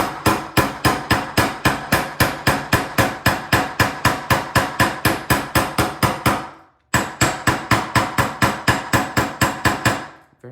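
A hammer strikes a wire-wrapped pendant in a fast, even run of sharp metallic taps, close and loud, broken by one brief pause before the steady tapping resumes.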